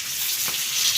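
Fish fry in hot oil on a medium gas flame, a steady close sizzle and hiss that runs without a break, with no voices.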